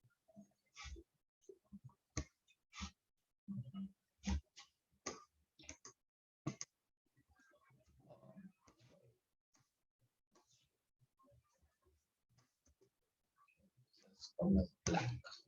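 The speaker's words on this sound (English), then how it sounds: "Let me type." Sparse, crisp keyboard key clicks come in uneven clusters separated by silences, with faint talk in the background and a heavier burst near the end.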